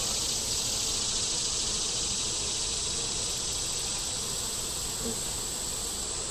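Honeybees drone in a steady, dense buzz from an open hive, loud and close throughout, with a faint rustle of frames and no talk.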